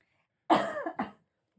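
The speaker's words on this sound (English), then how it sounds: "you also had a persistent cough" A single close, throaty cough in two quick bursts, followed by silence.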